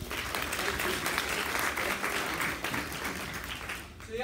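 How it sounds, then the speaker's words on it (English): A round of applause from a class of students, a full, steady clatter of many hands at moderate distance, with faint voices mixed underneath and a brief tail as it fades near the end. "Let's give them a round of applause."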